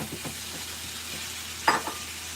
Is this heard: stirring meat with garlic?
yes